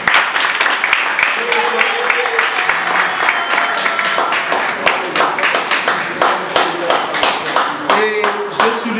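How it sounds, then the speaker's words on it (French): An audience at an association gathering claps steadily, a dense patter of many hands close by that holds fairly even throughout, with faint voices mixed in. "je vous prie encore une fois d'applaudir très très fort"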